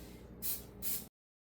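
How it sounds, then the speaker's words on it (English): Two short, bright hissing bursts of an aerosol spray can, each about a quarter second, sprayed onto a small star-shaped Rice Krispie treat, close and clear over a low background rumble. "Let's go spray this little tiny star."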